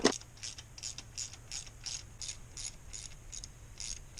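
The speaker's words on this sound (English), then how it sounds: "we're just going to take our 1/4-inch ratchet and get it as tight as we can by hand" A 1/4-inch ratchet clicks as bolts are tightened by hand on a C4 Corvette engine during a carburetor swap, giving a steady run of about a dozen close, evenly spaced pawl clicks with no talking.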